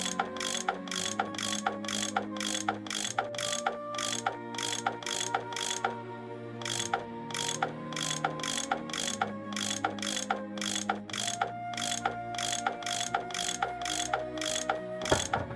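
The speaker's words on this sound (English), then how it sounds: "I bet that's what you use to unscrew these bolts." A tool loosens bolts in a Nancy Drew train-puzzle game, making fast, evenly spaced ratcheting clicks in close, repeated bursts with a brief pause midway, and no one talking.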